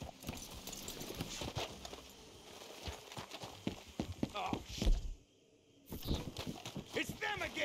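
Horses in Red Dead Redemption 2 clop along at a walk, hooves thudding in an uneven rhythm close by, while voices talk over them and the sound drops out briefly.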